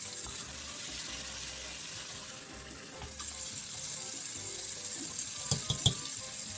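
Tap water runs steadily into a kitchen sink while canned navy beans are rinsed for a vegetarian chili, a continuous close wash of water with a few brief splashes and clatters near the end.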